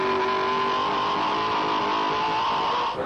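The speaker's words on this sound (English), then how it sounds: "Thundering up the mountain straight, who reached speeds of 250 kilometres an hour" V8 Supercar engine roaring up the mountain straight at Bathurst during the 2002 Bathurst 1000 shootout lap, a loud, sustained high-revving drone with steady pitch that drops away sharply at the end.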